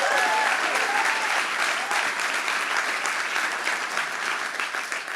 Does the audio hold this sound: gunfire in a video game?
no